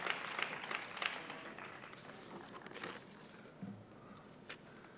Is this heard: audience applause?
yes